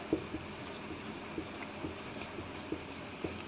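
Pen or pencil writing by hand on paper while drafting a formal invitation, soft scratchy strokes with a few light taps, faint and close, no talk.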